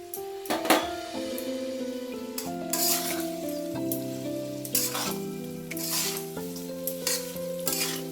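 Spiced vegetable curry of elephant foot yam with grated ginger and cumin stirred and frying in a pan, a steady sizzle under repeated scraping stirs, with tonal music running throughout.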